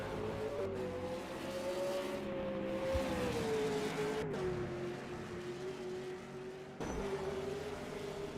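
A V8 Supercar engine in the rFactor 2 sim racing game drones steadily at a constant pitch, dipping briefly as it shifts and then holding again, with no voices.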